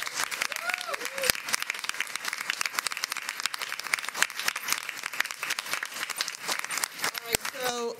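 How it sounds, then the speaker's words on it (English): A board of education meeting audience gives a round of applause, many hands clapping at a moderate distance for several seconds, with occasional voices beneath. "Let's give them a round of applause"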